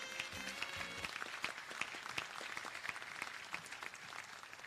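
Guests at a business academy graduation ceremony in Seychelles applaud the graduates, a faint, steady patter of many hands clapping heard from a distance.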